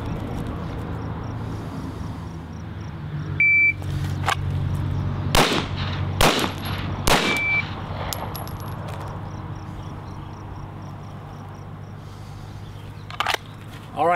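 Pistol shots ring out at targets during a 1-2-3 shooting drill, several sharp reports spaced a second or so apart. The shots are loud and close, with a few more cracks following later amid faint background noise.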